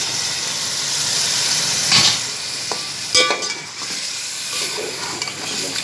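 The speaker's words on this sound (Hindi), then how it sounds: "अब मैं इसमें चिकन डालकर फ्राई करूँगी इसको।" Chicken pieces frying in a pot for nihari, a loud continuous sizzle and hiss close by, with a couple of sharper clatters and stirring bursts partway through.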